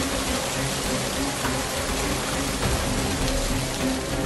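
Steady cartoon-style rain pours down in an even, hissing wash that holds at a constant level for several seconds with no voices over it.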